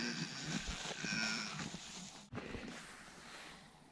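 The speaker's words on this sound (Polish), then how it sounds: "Tu śpi stado świnek." A herd of pigs resting at night in the open in Corsica gives low grunting calls over a steady wash of outdoor noise, with no voices.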